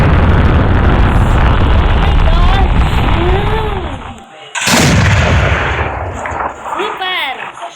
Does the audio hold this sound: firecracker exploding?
yes